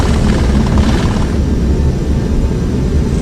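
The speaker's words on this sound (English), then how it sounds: "Reverse thrust engage." Boeing 747 Classic engines roaring in reverse thrust just after touchdown on a Qantas flight, a loud continuous broadband rumble and rush heard from inside the cabin, no voices.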